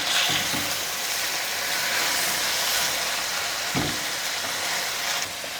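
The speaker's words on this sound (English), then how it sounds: "we're just going to sear the meat for around 3 to 4 minutes" Meat searing in a pan with masala for aloo gosht over medium heat, a steady broad sizzle and hiss lasting throughout, with a few faint knocks from stirring.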